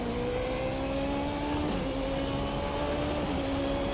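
A race car engine in iRacing screams at high revs, pitch climbing steadily with two brief dips for gear shifts, loud and continuous from start to finish.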